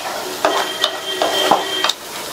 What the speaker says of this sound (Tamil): இப்போ இது எல்லாமே நல்லா வதங்கி வெங்காயத்தோட கலர் வந்து மாறி வரட்டும்